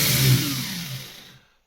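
The small electric motor of a WLToys 284161 1/28 scale 4WD RC buggy whines loudly at high revs, then winds down and fades to silence within about a second and a half.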